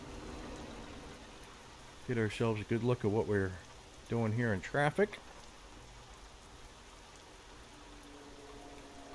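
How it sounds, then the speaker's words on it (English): Rain falls steadily in American Truck Simulator, a soft continuous hiss running under the whole stretch while someone talks briefly over it in two short bursts. "It is raining pretty good, but I don't think it's raining fast enough for the high-speed wipers"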